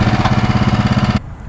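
A Honda engine on a 24-inch trencher runs with a loud, close, rapid chugging throb, steady and rhythmic, then cuts abruptly to a lower idle near the end.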